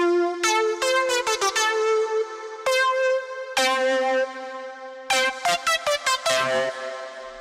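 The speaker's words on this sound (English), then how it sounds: "that's the distorted synth sound" Distorted dubstep synth preset from the Logic Pro X ES2, playing bright buzzy tones in sharp staccato stabs and a few held notes, shifting pitch in a rhythmic pattern with no voices.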